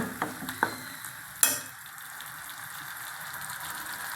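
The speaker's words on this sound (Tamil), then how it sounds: "இப்போ நல்லா வதக்கிடலாங்க பச்சை வாசம்பாவை" Bitter gourd sautés in a pan with gentle stirring, a soft steady sizzle underneath a few sharp spoon knocks against the pan early on, close and fairly quiet.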